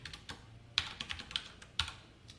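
Code is typed on a computer keyboard in short uneven bursts of crisp key clicks, with a few louder strokes standing out, close and fairly quiet, with no talking.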